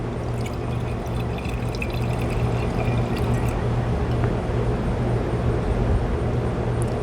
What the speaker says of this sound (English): pour another